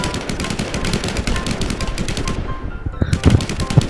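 Rapid automatic gunfire rattles in a shooter video game, a dense close burst of shots that pauses briefly before a few heavier single shots follow.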